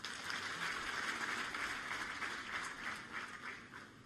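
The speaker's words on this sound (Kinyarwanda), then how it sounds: "tumuhe amashyi." An audience at a World AIDS Day event in Rwanda gives sustained, even applause, a broad wash of many hands clapping at moderate distance and fading slightly toward the end, with no speech over it.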